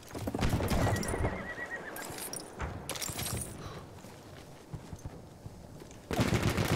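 A horse approaching during a Battlefield 1 match, neighing and clopping hooves mixed with bursts of machine-gun and rifle fire, loud at the start, easing in the middle, then surging again at the end.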